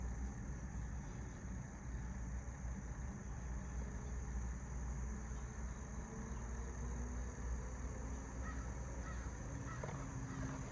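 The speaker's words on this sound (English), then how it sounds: "Apologize for the loud birds if you can hear them." Loud, constant outdoor din of calling birds at a vintage car show, dense and unbroken throughout, with a raucous honking quality and no speech.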